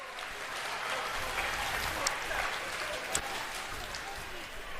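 Crowd applause and cheering at the finish line of a USA BMX national race, a broad, steady wash of clapping with a few sharper claps and some voices mixed in.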